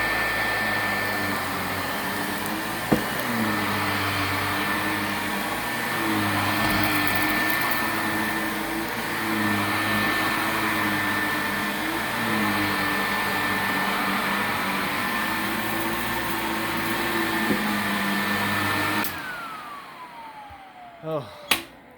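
An Advance Carpetwin 16XP carpet cleaner runs loud and steady with a constant whine and airflow roar, a sharp knock near three seconds, then shuts down and winds off at the end.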